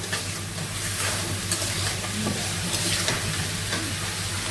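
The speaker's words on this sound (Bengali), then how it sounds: "সব রকম মশলা দেওয়া হয়ে গেছে একটু কষিয়ে নেবো ভালো করে" Spices sizzle and fry in a hot pan as they are stirred during Bengali home cooking, a steady loud hiss with occasional scraping, with no talk.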